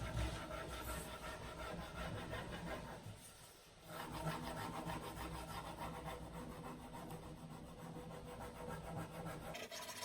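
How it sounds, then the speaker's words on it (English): Steady rubbing and scraping as a furniture transfer is pressed down onto a wooden surface, a close, continuous dry friction with a brief lull partway through, no voices. "I'm going to rub it as I lift it just to make sure that it's down"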